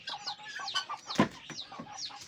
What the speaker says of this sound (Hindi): ये 2 मुर्गे और 4 मुर्गियाँ हैं।